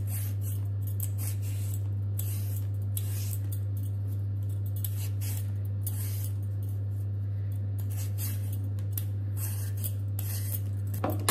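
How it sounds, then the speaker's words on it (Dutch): A peeler scrapes a large sweet potato in a home kitchen, making repeated short rasping strokes in an irregular rhythm over a steady low electrical hum. "ik ga nog even snel een zoete aardappel schillen en dan koken"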